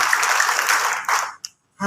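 A congregation at a church service breaks into brief, fairly loud applause lasting just over a second, then fades out.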